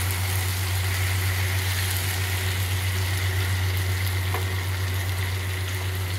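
Shrimp frying in a pan for chilli prawns, a loud, steady sizzling hiss that runs unbroken throughout, close up and with no talking.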